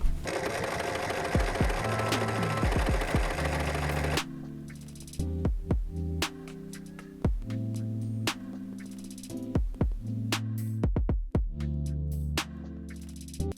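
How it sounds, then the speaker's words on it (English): Sewing machine running close and steady while top stitching a pencil case, a dense mechanical whir for about four seconds, then quieter stop-start bursts and clicks over the remaining time. "sew it on top with a top stitch"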